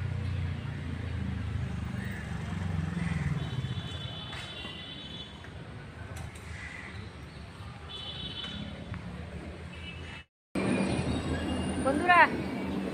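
A train moves through a railway station with a continuous clattering rumble of cars and wheels, a brief cutout, then high wheel squeals near the end, with faint voices around the platform.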